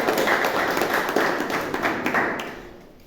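An audience at a meeting gives a round of applause, brisk, dense clapping that holds steady and then tapers off near the end.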